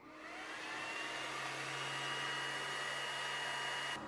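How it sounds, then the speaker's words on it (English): A cooling fan in the head of an xTool D1 Pro 20W laser engraver runs with a steady, airy whir and hum, even and constant, then cuts off abruptly at the end. "the fan in the laser head is quite loud, but it only works when the laser is moving"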